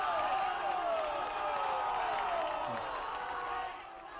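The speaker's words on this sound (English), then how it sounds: "the crowd underneath me is giving him a hard time as he walks away with the strikeout" A baseball championship crowd in the stands jeers and shouts at a batter walking off after a strikeout, a steady, moderately loud mass of overlapping voices that eases toward the end.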